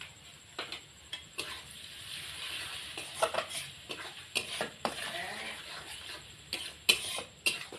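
Ground turmeric, chili, cumin and coriander are stir-fried in a pan, with repeated scraping strokes of a spatula in an uneven rhythm over a soft sizzle, close and fairly quiet.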